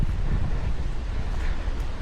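Strong gusting wind roars steadily and loudly across an outdoor microphone, a dense continuous rumble with no pauses and no voices.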